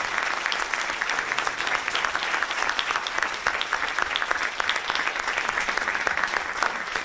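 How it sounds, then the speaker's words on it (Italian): An audience at an evening talk on responsibility applauds warmly, a thick, continuous patter of many hands clapping, steady and fairly close, with no speech over it. "Un grande applauso al dottor Lombardo."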